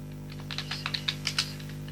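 Quick bursts of keystrokes on a computer keyboard while entering data in Tally ERP 9, about ten close, crisp clicks over a low steady hum.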